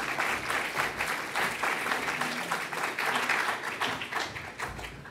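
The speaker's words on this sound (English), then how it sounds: "Big round of applause for Douglas." An audience at a wearables and AR/VR tech meetup gives a sustained, lively round of applause, many hands clapping in a thick, uneven patter that stays strong throughout.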